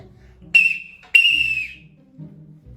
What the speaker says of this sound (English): Next, we're going to see this beautiful whistle with flower patterns.